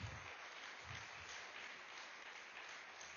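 A church congregation applauds, with dense, steady clapping filling the room at an even level from start to finish.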